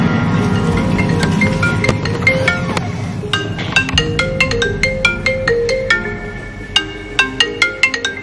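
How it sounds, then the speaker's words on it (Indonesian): Phone ringtone for an incoming call, a melodic electronic tune of bright plinking notes in a repeating pattern, fairly clear and close with no talking over it. "Dia nelpon aku guys."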